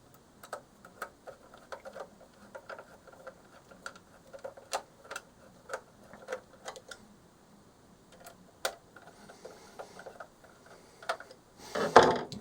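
Screws being driven in to fasten a metal blocker plate onto a Mars MEI credit card decorative bezel: a sparse series of sharp, close metallic ticks and clicks at irregular intervals, ending in a brief louder rustle.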